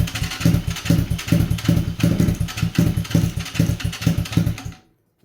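Lifan KP Mini 300 motorcycle with a ZS175FMN 4-valve engine and custom exhaust, cranked during a cold start: a steady rapid chugging rhythm of starter and engine turnover, loud and close, cutting off abruptly near the end.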